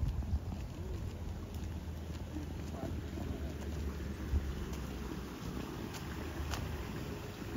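Rain falls on a street with water splashing and hissing, a steady broad wash of sound with occasional faint knocks and no clear speech.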